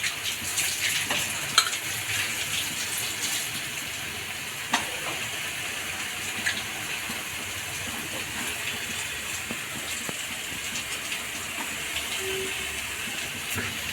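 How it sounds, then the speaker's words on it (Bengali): Soya chunks fry and are stirred with spices for a cauliflower and soybean curry, giving a steady, even sizzle and hiss with a few faint scraping stirs and no talking. "সয়াবিনগুলো জল চেপে এবার সয়াবিনগুলো দিয়ে দেবো"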